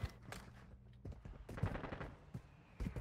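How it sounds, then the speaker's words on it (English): Mortar strike in the mobile shooter Warzone Mobile, a quiet series of sharp blasts and crackling impacts in irregular bursts, some clustered and some spaced apart, without speech. "Mortar strike."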